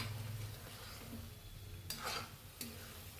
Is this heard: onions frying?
yes